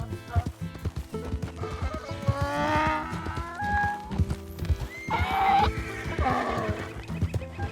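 Donkey braying in Red Dead Redemption 2, loud harmonic brays rising and falling in two bursts over a busy game backdrop of livestock and hoof clops.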